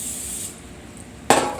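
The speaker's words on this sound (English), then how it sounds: "Spray some non-stick" One short, hissing burst of non-stick cooking spray into a pan comes near the end, close and loud after a quiet kitchen background.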